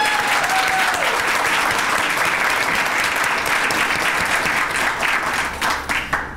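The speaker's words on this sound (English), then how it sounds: "let's give them another round of applause for being here" A room full of people at a press conference claps steadily for several seconds, dense and even, before the applause thins out and tapers off at the end.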